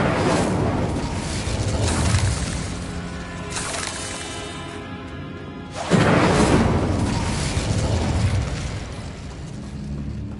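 Incendio fire spell cast in Hogwarts Legacy, a loud whooshing burst of flame with booming impacts, surging twice with a roaring crackle in between.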